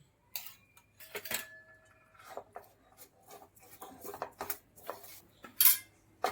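A spoon scrapes and clinks against a bowl in irregular bursts, stirring a fenugreek sweet (methi pak) mixture with ghee, close by, with no talking.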